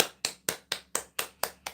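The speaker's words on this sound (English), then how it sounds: "Let's clap for Dauda." Sharp, evenly spaced claps ring out in a steady rhythm, eight crisp strikes in under two seconds, close and clear with quick decays, as if a single person is applauding.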